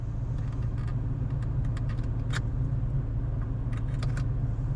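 A Toyota pickup truck's TRD Pro exhaust idles with a deep, steady rumble, and occasional light metallic clinks sound nearby.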